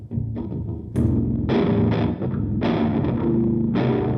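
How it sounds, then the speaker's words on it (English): A heavily distorted, gritty tone from a Line 6 Helix distortion effect plays in chopped, rhythmic bursts over a drum beat, loud and close, sounding like a fuzz-drenched guitar riff. "if we kick on some distortion as well"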